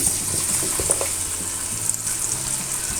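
Steady sizzling of julienned onion frying in hot oil previously used for sardines, continuous and close, with a few soft clinks and stirring sounds.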